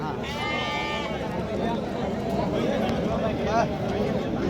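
A goat bleats with a wavering, quivering cry early on, then fainter calls follow under nearby talk amid outdoor bustle at the Gokak APMC sheep and goat market in India.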